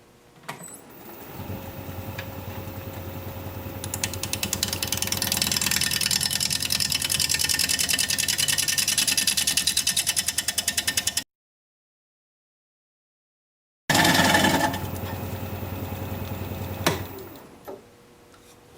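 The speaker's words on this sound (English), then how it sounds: "We're going to be turning at 600 RPM with my 5/8 inch standard grind bowl gouge" A wood lathe spins an oak bowl blank at 600 RPM while a 5/8 inch standard grind bowl gouge cuts, giving a steady motor hum with a rasping, ticking scrape, a brief dead silence, then more cutting.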